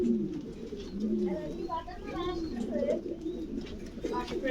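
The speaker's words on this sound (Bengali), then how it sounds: "অনেক বড়, অনেক বিশাল কবুতরের ফার্ম।" Pigeons on a very large pigeon farm in Bangladesh coo repeatedly in overlapping, throaty calls close by, with a steady murmur of many birds behind them.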